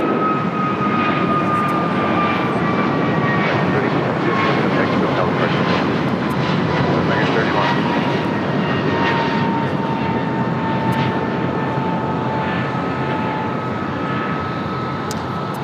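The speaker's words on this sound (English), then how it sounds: "That taking off was American Airlines Flight 331 heading to Honolulu, an A321neo." An American Airlines Airbus A321neo takes off at LAX bound for Honolulu, a sustained jet engine roar with a slowly falling whine tone running through it, steady and loud throughout.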